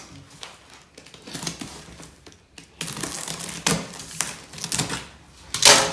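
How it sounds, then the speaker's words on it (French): A box cutter slices open a large parcel, giving uneven bursts of crackly scraping and crinkling cardboard and packing noise, close up, with a sharper rip near the end. "Je vais d'abord mettre un coup de cutter."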